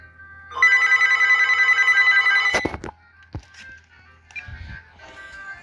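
House telephone ringing with a loud electronic bell for about two seconds, then a clatter as the handset is picked up, followed by faint handling sounds in a quiet room.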